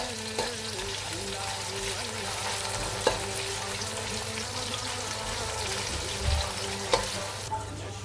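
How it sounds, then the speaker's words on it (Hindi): Onions frying in a pan for vegetable pulao, a continuous close sizzle with occasional clicks and spoon scrapes as they are stirred. "ऑनियन को हम जो है वो लाइट गोल्डन करेंगे"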